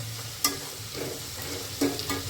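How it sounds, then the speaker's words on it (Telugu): Chicken pieces tossed and frying in oil over a low flame, a faint, soft sizzle with a few sharper scraping stirs and clatters of the utensil. "మంచిగా లో ఫ్లేమ్లో పెట్టి ఇలా మంచిగా మనమైతే టాస్ చేసుకోవాలి"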